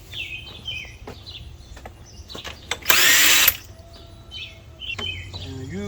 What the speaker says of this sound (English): Why am I using a wrench when I got an impact?